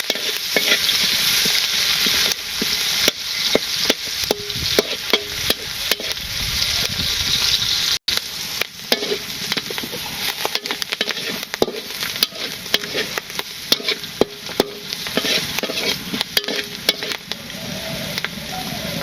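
Onions frying in a pan over a village cooking fire give a loud, steady, crackling sizzle throughout, broken by frequent scraping stir strokes and one brief dropout partway through.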